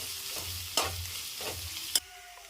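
Garlic and ginger fry in a pan with a soft, steady sizzle, broken by two sharp scraping stirs of a spoon, close and fairly quiet with no voices.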